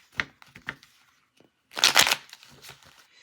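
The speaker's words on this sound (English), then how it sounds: "We need another shuffle on that." A deck of tarot cards is shuffled by hand in a few short riffling bursts, with a louder, denser flurry in the middle and quiet gaps between, close and crisp with no talking.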